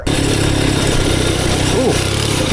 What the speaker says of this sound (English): This might be like the world's first just agricultural sounding mini bike. It sounds like an old tractor.